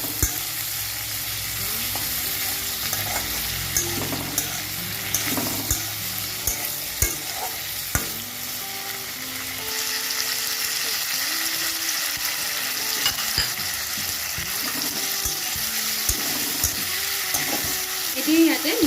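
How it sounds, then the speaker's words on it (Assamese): Chopped tomatoes added to lightly fried onions in a hot pan, a steady sizzle and frying hiss with occasional stirring scrapes and clicks, with a voice talking partway through. "পিয়াজখিনি অলপ ভাজাৰ পিছতে এতিয়া বিলাহীখিনি দি দিলো।"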